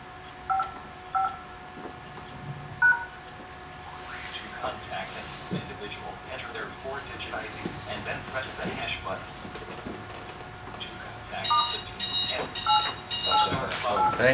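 An automated calling system sends telephone call tones: faint beeps early on, then a loud run of rapid dialing tones near the end, under quiet talk and background noise.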